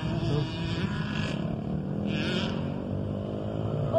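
An electric pit bike on a dirt track runs at full throttle, giving a steady, close motor whine with a couple of brief higher surges.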